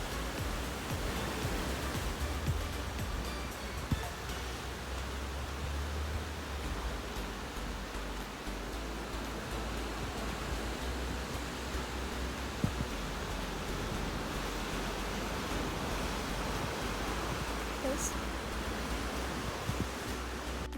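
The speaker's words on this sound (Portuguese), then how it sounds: "quando a água bate no fundo delas faz um barulho muito alto" Sea water crashes against the rocky mouth of Boca do Inferno in Cascais, a continuous loud wash of surf roar with a deep low rumble and occasional sharper surges.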